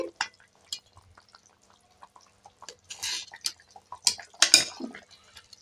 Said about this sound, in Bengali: দেড় মিনিট হয়ে গেছে আমি ঢাকাটা খুলে নেব